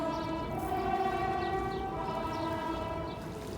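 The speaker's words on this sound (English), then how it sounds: "that's the first train since I've been here that's blasted its horn" A train on the Forth Bridge sounds a long, steady horn blast with rich layered tones, heard from a moderate distance over a faint rail rumble, with no speech.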